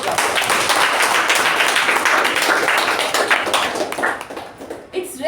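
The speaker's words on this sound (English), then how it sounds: "for that he deserves a thunderous round of" Loud, dense applause from a meeting audience after a speech, continuous clapping that holds strong for several seconds before thinning out near the end.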